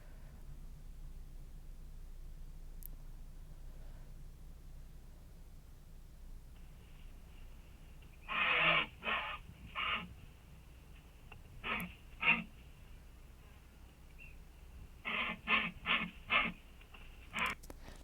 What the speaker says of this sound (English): California condor sound.